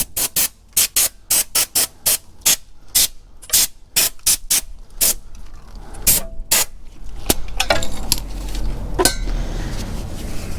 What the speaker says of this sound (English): Again, brake cleaner.